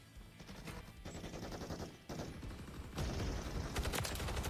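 Subverter battle rifle firing in Call of Duty MW3, a steady run of rapid shots that grows louder and denser in the second half, with no talk over it.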